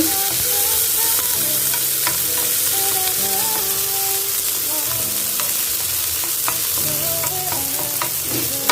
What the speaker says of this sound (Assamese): ভাজি ল'ম খুব বেছিকৈ পকাব নালাগে জাষ্ট অকণমান কেঁচা কেঁচা ভাৱটো গ'লেই হৈ যাব